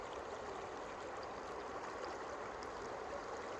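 A creek runs through a high mountain meadow beneath towering granite walls, giving a steady, soft wash of flowing water with a faint trickle, even and unbroken throughout, with no voices.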